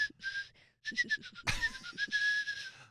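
A person whistles a quick run of short, bright notes, pausing briefly and then continuing with a sustained tone, close to the microphone with breathy undertones and no speech.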